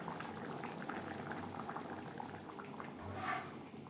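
Shol fish curry with potatoes bubbles on a gas flame, a soft continuous boiling burble with small popping bubbles, faint and steady, swelling slightly near the end.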